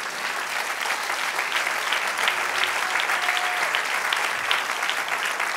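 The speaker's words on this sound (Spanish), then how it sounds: "Denle un aplauso a Jesús." Sustained applause from a church congregation fills the space, dense and steady throughout with no break, with a brief faint tone partway through.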